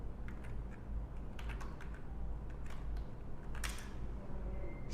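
Keys tapped on a computer keyboard while entering a product description prompt, producing scattered soft clicks in short bursts over a steady low background hum, with a brief louder clatter near the end.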